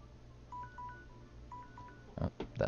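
An electronic alarm beeps in a short series of clean, quiet tones, spaced in pairs, followed by a few louder bursts of sound at the end.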